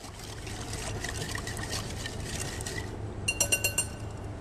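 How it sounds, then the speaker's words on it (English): A spoon stirring a salted mixture in a bowl: a soft, steady scraping swirl, then a quick run of bright clinks against the bowl near the end. "Now this mixture, give it again a nice stir."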